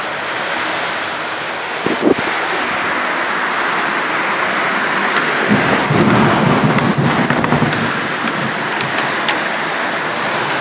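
Heavy monsoon-like rain pours steadily with low rumbling like distant thunder and wind buffeting the microphone, a dense continuous roar throughout.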